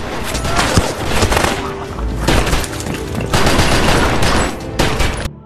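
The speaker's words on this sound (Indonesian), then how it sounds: "langsung menghujani Toro dengan peluru panas ke arahnya" Sustained bursts of automatic gunfire in a film action scene, loud and dense with rapid repeated shots and brief lulls between volleys, ending abruptly.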